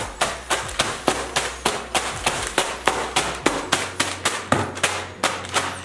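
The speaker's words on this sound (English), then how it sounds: "Hammer to crush up the dry ice" A hammer crushes dry ice in a steady run of sharp, evenly spaced strikes, about three per second, loud and close, with a faint low hum beneath and no talking.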